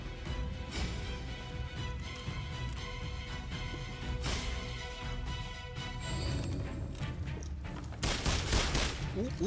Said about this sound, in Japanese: どこだ、誰が撃ってる。